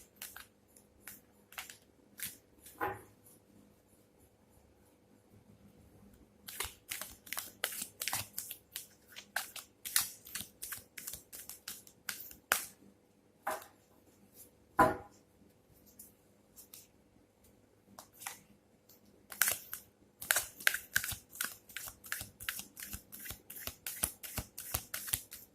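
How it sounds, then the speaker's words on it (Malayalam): Oracle cards are shuffled during a tarot-style pile reading, giving soft, close riffling and flicking in several long bursts with quieter pauses and a few sharp taps between them. "നമുക്ക് ഒറാക്കിൾ കാർഡ് എടുത്ത് നോക്കാം."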